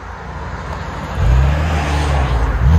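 Exhaust note of a Chevy Camaro 3.6L V6 fitted with an MBRP cat-back system: a low steady rumble that swells into a stronger drone partway through, fairly close and free of voices.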